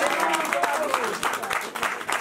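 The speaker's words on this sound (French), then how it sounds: "Bon, alors, on peut quand même l'applaudir" An audience claps in a busy burst, with sharp individual hand claps standing out, while voices talk over it.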